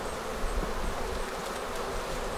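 A crowd of honeybees drones around an open Langstroth-style hive being reassembled, a loud, continuous close-up buzz with slight swells and no speech.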